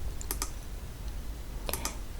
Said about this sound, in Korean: 키보드에서 왼쪽 대괄호 누르고 있고요